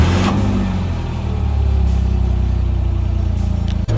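A Caterham Seven 160S sports car's engine pulls steadily as the car drives and accelerates, a continuous loud mid-pitched drone with no talk over it.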